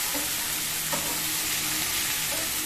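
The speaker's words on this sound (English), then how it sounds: "On slow flame, just keep on stirring it after 15 minutes just to check that it doesn't burn." Okra (ladies finger) and onion fry over a slow flame in a non-stick pan, giving a dense, even sizzle with a few soft stirring knocks, close and continuous, with no talk.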